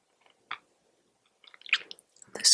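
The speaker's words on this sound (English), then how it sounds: "The squishing between your teeth as you chew" Someone slowly chews a raisin close to the mic, making soft isolated squishy bites, then a flurry of small moist chewing sounds in quiet surroundings.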